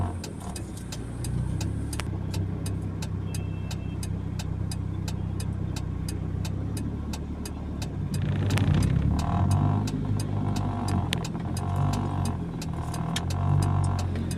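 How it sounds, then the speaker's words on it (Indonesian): Heavy city traffic in Palembang near the Simpang Patal traffic light junction: a continuous drone of idling and revving car and motorbike engines, close and fairly loud, with rising engine surges partway through. "Lalu lintas padat ini karena nggak jauh juga dari lampu merah simpang Patal itu teman-teman."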